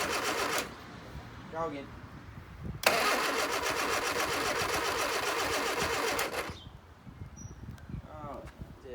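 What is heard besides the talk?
1973 Leyland Moke engine cranking on the starter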